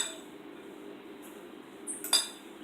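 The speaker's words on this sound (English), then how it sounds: "So we just mix them together evenly." Utensils clink against a bowl while fish salad is stirred with Thousand Island dressing, a quiet close scraping and mixing that ends in a couple of sharper clinks near the end.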